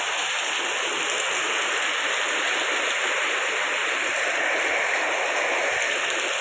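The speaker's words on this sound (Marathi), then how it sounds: "इतका जोरदार पाऊस ना" Steady, dense rain pours down without a break, a loud continuous hiss and rush filling the whole stretch.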